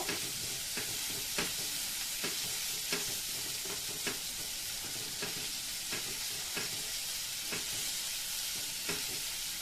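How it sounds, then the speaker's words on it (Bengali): Moong dal cooking with prawns in a pan, sizzling steadily while a spoon stirs it in regular scraping strokes, close and continuous, with no voices. "আমি এখন একটু এটাকে ভালো করে নাড়িয়ে নেব।"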